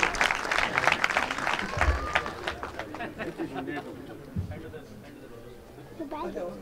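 An audience at the Second Peer Alpa Conference 2021 claps, a dense burst of applause loudest early on that thins out, mixed with crowd chatter and speech.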